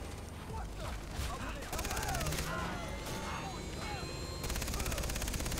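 A mounted gun firing in the video game Far Cry 3, with rapid continuous bursts of automatic fire over a rumbling engine drone, a voice talking faintly underneath.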